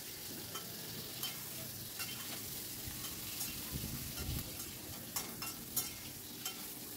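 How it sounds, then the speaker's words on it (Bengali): Eggplant fries in hot oil in a pan, producing a loud, dense, continuous sizzle and crackle with occasional stirring scrapes, close and alone without talk. "বেগুনটাকে আমি ভেজে নেব। বেগুনটা ভেজে রান্না করলে দারুণ সুন্দর একটা টেস্ট আসে"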